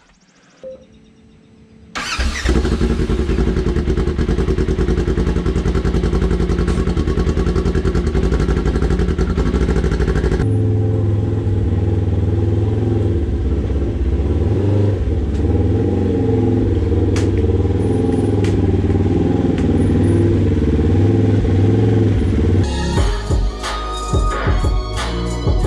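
An off-road machine's engine cranks over at a trail ride event, catches and settles into a loud, steady rumbling idle with revving swells that runs for about twenty seconds before cutting back, with no talk over it.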